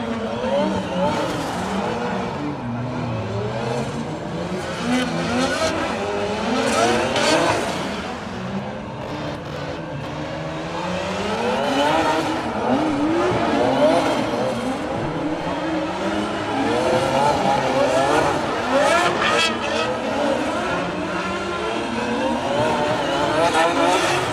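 Drift cars at Chicago Drift practice rev hard with wailing, rising and falling engine notes and squealing tires, a continuous loud roar from a distance that never lets up.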